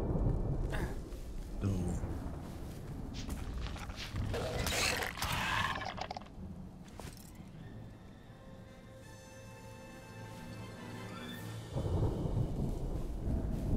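Thunderstorm in the survival game Smalland, with loud rolling thunder and steady rain filling the scene, a roaring rumble midway and softer stretches of rainfall.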